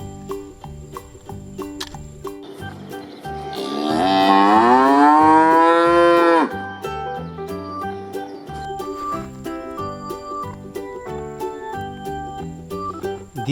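A cow lets out one long, loud moo lasting a few seconds, rising and then cutting off, with a light musical backing and insect-like chirps around it.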